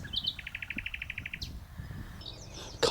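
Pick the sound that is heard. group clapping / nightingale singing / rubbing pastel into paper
nightingale singing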